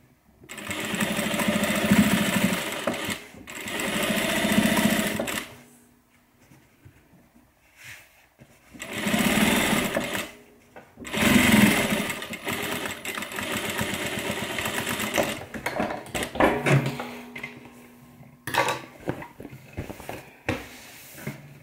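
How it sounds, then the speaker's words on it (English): A sewing machine runs a straight 1/4 inch seam on a messenger bag, whirring in several bursts of a few seconds each with short pauses, close up and fairly loud, with no talking. "all we're going to do is sew across using 1/4 inch seam allowance"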